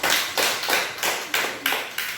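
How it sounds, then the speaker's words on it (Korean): A church congregation at a Sunday morning worship service claps in a steady rhythm, seven sharp, evenly spaced claps close by, without talk. "박수 한번 쳐주세요."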